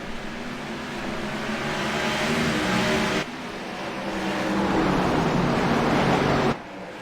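Race cars at Bristol Motor Speedway accelerate on a restart in a racing event, a loud, dense engine roar that swells in two surges as the pack builds speed.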